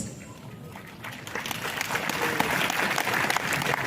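Audience at a business gathering of insurance agents claps, the applause starting faintly and swelling into a dense, sustained round that grows louder toward the end.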